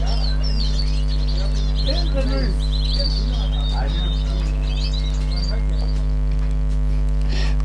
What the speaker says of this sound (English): As you can hear the sound of the birds